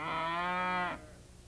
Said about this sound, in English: When a bunch of cows come together,